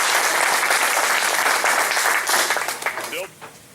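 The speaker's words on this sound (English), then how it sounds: "I want to first off give a big round of applause" Audience at a Kansas 43rd District and sheriff candidate forum breakfast applauds loudly and steadily, a dense wash of clapping that fades out toward the end with a few voices emerging.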